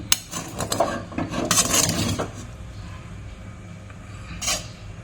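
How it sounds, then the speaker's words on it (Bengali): Prawn pulao made with Bengal rice and ghee is stirred in a pot, a series of close metallic scrapes and clinks of a spoon against the pot, busiest early, then fading to quiet with one more scrape near the end. "এখন দেখো আমি এটা সব মিক্সড করে দিচ্ছি"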